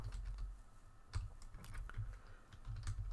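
Quiet typing on a computer keyboard, a short burst of irregular soft key clicks with brief pauses, close and alone without talk.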